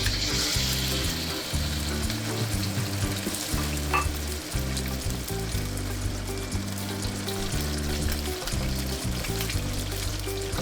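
Chicken hitting a hot wok over high heat with lightly browned ginger and garlic, sizzling loudly and steadily, with stirring and scraping noises throughout.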